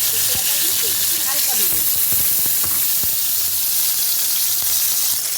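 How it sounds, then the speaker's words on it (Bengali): Two salt-and-turmeric-rubbed fish fry in hot oil in a kadai, a continuous close sizzling hiss with scattered pops and crackles. A voice speaks briefly near the start. "কড়াইতে তেলটাও গরম হয়ে গেছে এখন আমি মাছ দুটো ভেজে"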